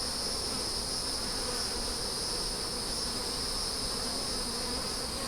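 Honey bees hum steadily around an open hive during an inspection for queen cells, a dense continuous drone with no talking, close and unbroken throughout.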